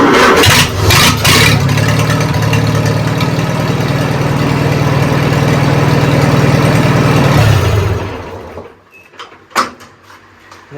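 An IH Farmall tractor engine cranks, catches and runs loudly and close by, its steady low rumble holding for several seconds before cutting off abruptly into quiet with a few faint knocks.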